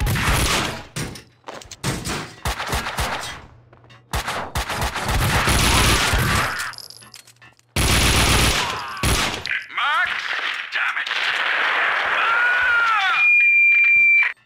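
Dense bursts of automatic gunfire rattle through a firefight in the PC game Max Payne 2, loud and close, with short gaps between volleys and a few high electronic tones near the end.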